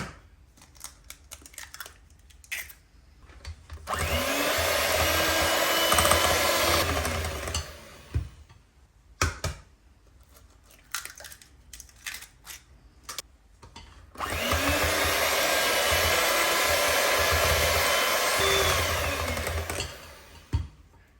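An electric hand mixer beats eggs into chocolate cupcake batter, with two long, steady whirring bursts of about four and six seconds, close and fairly loud, separated by clinks and handling noise.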